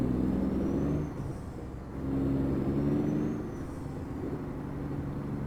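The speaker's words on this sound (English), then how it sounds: "Love the sound of this truck." Deep, droning diesel engine of a Kenworth T404 road train in American Truck Simulator, rising and easing with throttle in two swells, steady and close, with a faint high whine above.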